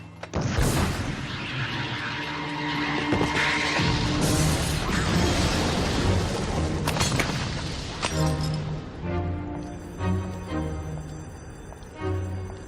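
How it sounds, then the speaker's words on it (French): A loud, dramatic blast with crashing and shattering debris, rumbling and fading into ringing tones and softer clatter. "il y a eu une explosion!"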